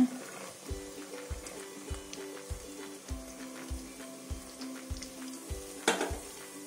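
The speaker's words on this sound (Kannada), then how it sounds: "ಕ್ಯಾರೆಟ್ ಸ್ವಲ್ಪ ಎಣ್ಣೆಲಿ ಬೇಯಲಿ." Carrots fry in oil in a pan while a coconut milk pulao is cooked, giving a soft continuous sizzle broken by regular stirring knocks about every half second, close and fairly quiet, with no talking.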